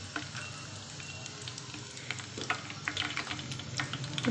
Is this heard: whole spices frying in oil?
yes